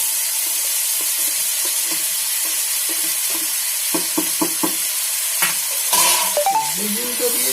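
Brinjal goes into hot oil with pumpkin for a palak shak vegetable dish, giving a steady close sizzle with a run of sharp spatula knocks, then a louder surge of frying with faint tonal sounds near the end.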